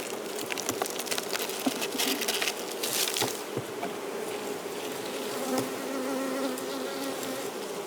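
Honeybees hover and buzz around an open hive during burr comb removal in Newfoundland, a close continuous drone with some defensive insects zipping past the ear, plus scattered light clicks and taps.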